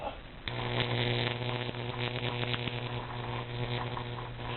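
High-voltage Jacob's ladder arc burning through a clump of steel wool, a loud steady electrical buzz and hum that starts abruptly and holds with crackling spikes throughout.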